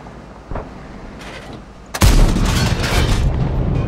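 A KV-2 tank cannon firing in a video game: a sharp, heavy boom near the two-second mark that rolls into a long, loud rumbling tail, preceded by a fainter thump and some softer game noise.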